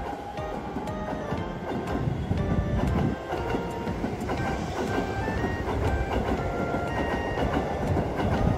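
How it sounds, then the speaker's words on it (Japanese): A Keisei Main Line rapid train passes close by, its wheels beating a steady clickety-clack rhythm over the rails with a loud, continuous rumble throughout. "早速列車がやってきたのぜ"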